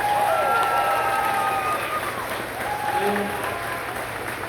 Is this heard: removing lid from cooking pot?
no